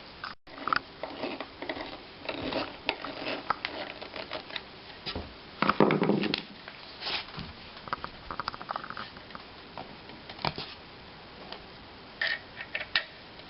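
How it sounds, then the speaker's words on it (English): Screws being driven back down into an upholstered chair seat give a run of small, close ticking and clicking sounds with brief scrapes, quiet and intermittent, with no voices. "So we'll go ahead and screw these down securely."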